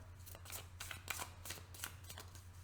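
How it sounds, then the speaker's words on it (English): Tarot cards riffled and shuffled in repeated bursts about every half second, crisp papery flutters close up over a steady low hum, with no talk. "Off the top of the deck, 2 more shuffles."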